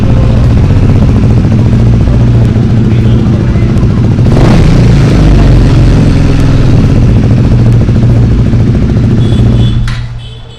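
A motorcycle engine runs loud and close, throttling steadily with a burst of revving midway before fading out at the end.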